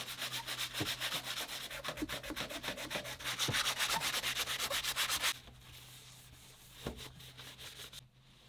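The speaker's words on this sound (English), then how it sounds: "Let me get my sanding block, sand this, paint this." A sanding block scrubs over a painted touch-up spot on an RV in steady, rhythmic back-and-forth strokes, close and loud, then slows into lighter, quieter rubbing.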